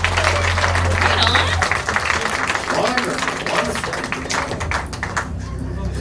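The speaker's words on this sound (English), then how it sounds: "Give him a round of applause." A live psychic show audience applauds a performer, a dense burst of many hands clapping with a couple of cheers, loud at first and thinning out over several seconds, with voices mixed in.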